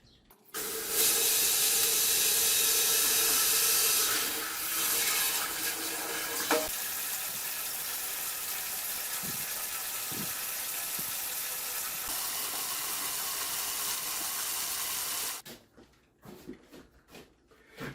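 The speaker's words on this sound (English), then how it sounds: "We're just going to put hot water from the hot tank into our mash tun." Hot water from a hot liquor tank gushing steadily into a mash tun while brewing a Bohemian pilsner, a loud continuous hissing pour lasting about fifteen seconds before cutting off to quieter handling noises.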